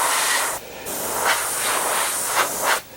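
Airbrush spraying a Future gloss coat onto a Bf 109G-6 scale model, a steady close airy hiss in several bursts with brief pauses between passes, heard alone.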